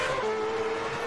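Race cars in the 2010 Formula 1 game at Monza's first turn, engines whining loudly with a sustained tire squeal as cars spin and collide ahead.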